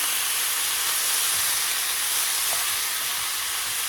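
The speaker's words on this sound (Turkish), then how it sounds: "Kavrulan pirinçlerimizin üzerine daha önceden haşlamış olduğumuz kısmısı eti ekliyorum." Rice and previously boiled meat roast in a pot for almond Uzbek pilaf, producing a continuous, even steamy hiss at moderate loudness with no other sounds.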